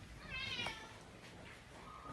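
A cat meows once, a short, fairly close call near the start, followed by quiet outdoor background.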